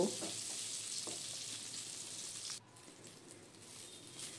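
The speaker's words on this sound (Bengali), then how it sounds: "বেগুনগুলোকে নেড়েচেড়ে নিয়ে আমি হালকা লাল লাল করে ভেজে নেব" Eggplant pieces frying in hot oil and being stirred, a continuous bright sizzle with faint scraping and stirring, dropping slightly quieter partway through.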